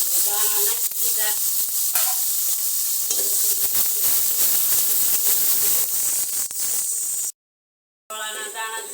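Corn kernels crackle and sizzle loudly in hot oil tempering with cumin and other seeds for Gujarati makai sambharo, a continuous close frying hiss with stirring, briefly cut out near the end before resuming.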